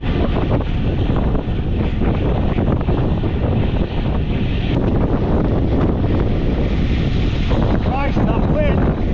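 Strong wind roars across the microphone while cycling on the Yorkshire moors, a loud, continuous buffeting rumble that fills the whole stretch, with faint voice-like sounds under it near the end.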